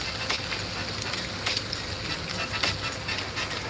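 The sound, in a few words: beef sizzling on a grill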